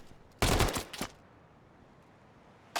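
SMG gunfire in a competitive video game match rips out in a quick dense burst followed by a couple of single shots, then near silence with a faint click at the end.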